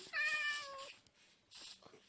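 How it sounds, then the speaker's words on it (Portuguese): A Minecraft cat gives a clear, fairly faint meow, followed by softer mewing sounds and low background noise. "Tem um monte de gato, cara."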